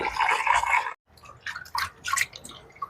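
Goraka tamarind pieces being washed by hand in water, with a burst of sloshing and splashing followed by a few separate drips and wet squishing sounds, close and fairly loud.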